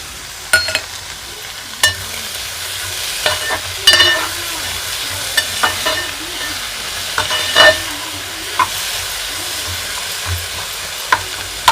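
Tomatoes with rock salt sauté in a hot pan, a constant soft sizzle broken by a string of sharp scraping knocks as a spoon stirs them, up close with no talking.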